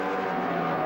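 NASCAR Sprint Cup race cars at New Hampshire's 2009 Sylvania 300 produce a loud, continuous engine roar with a bright harmonic whine over the brief stretch.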